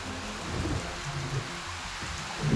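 Heavy monsoon rain pours down in Dwarka, a dense, steady roar of rainfall with low rumbling underneath, heard briefly and without speech.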